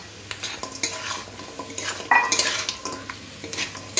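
A metal spatula scraping and clattering against a pan as pre-fried chicken pieces are stirred into vegetables and spring onion greens for Chinese mixed fried rice, with irregular close knocks over a soft frying sizzle.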